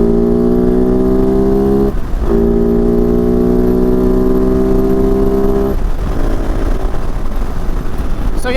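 A Kove 450 Rally motorcycle cruising at about 70 mph with a balanced front wheel, its steady engine drone and harmonic whine loud and close over constant wind roar, briefly dipping twice as throttle shifts.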